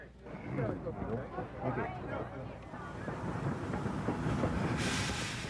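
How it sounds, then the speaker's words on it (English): A steam train on a tourist ghost-train run pulls out toward Copper Flat, its steady rumble and chuffing rising a little, with wind noise on the microphone and someone narrating over it. "with the Johnson bar forward and the throttle cracked, it was off to Copper Flat."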